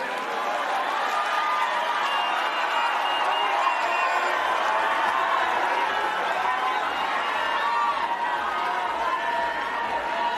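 A large crowd cheers and applauds after a speech by former Kenyan Prime Minister Raila Odinga. The noise is a dense, loud, continuous roar of clapping and voices that holds steady for the whole stretch.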